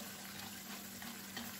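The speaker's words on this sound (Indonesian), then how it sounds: "Kita goreng dengan api yang sedang." Cassava chips fry in oil over medium heat, making a faint, steady, unbroken sizzle.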